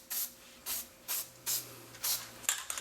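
Lubricant sprayed from an aerosol can onto rear axle parts of a 2003 Dodge Ram 2500 during brake and bearing repair: five short hissing bursts at an even rhythm, close and fairly quiet, followed by a clatter.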